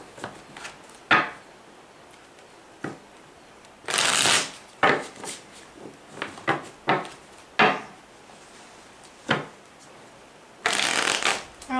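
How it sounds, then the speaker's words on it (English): Tarot cards being shuffled by hand, with repeated brisk riffling bursts separated by short pauses and soft taps, close and fairly loud against a quiet room. "that was a shitty shuffle"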